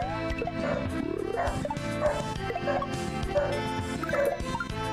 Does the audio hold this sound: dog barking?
yes